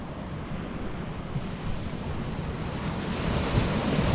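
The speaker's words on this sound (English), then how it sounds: "That tide's pushing in." Ocean surf washes steadily onto a beach during surf fishing, a continuous broad roar of breaking waves with wind buffeting the microphone, with no voices.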